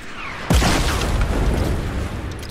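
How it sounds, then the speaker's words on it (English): Rocket explosions in a Fortnite Battle Royale match: a single loud, close boom hits suddenly, then rumbling debris and blast noise stay dense and steady for about two seconds without speech. "That's a lot of rockets."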